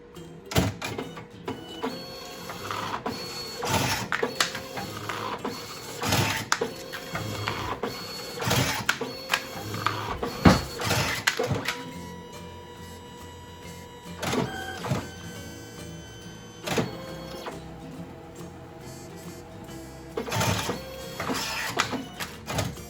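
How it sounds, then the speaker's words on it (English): A DNP RX1 photo printer whirs and clunks through a series of alignment test-print passes, with bursts of motor noise and clicks separated by quieter hums. "The printer will do some test prints to line it up."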